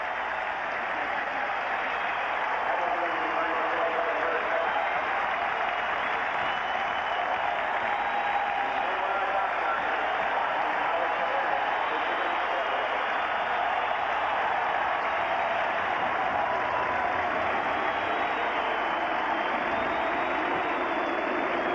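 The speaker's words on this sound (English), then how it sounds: "I want you to listen to this crowd as they go" Big Michigan football stadium crowd roaring steadily as the teams head off the field, a dense, sustained wall of cheering and applause with no break, heard from a distance.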